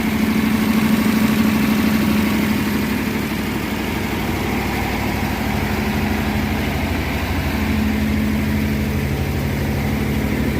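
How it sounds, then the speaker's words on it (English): A 1957 Ford Thunderbird V8, revived after decades off the road, idles high and steady with a smoky exhaust, a continuous close rumble with a faint whine that holds for the whole stretch with no talk. "So I'm gonna let this thing run for a little bit."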